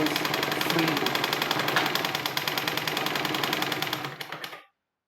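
A sewing machine running as its balance wheel turns: a fast, steady mechanical clatter, close and even, holding for about four seconds before slowing briefly and stopping into silence.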